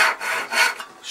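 A hand saw cuts a dovetail in wood, making close, rhythmic rasping strokes, about three quick back-and-forth pulls in a second.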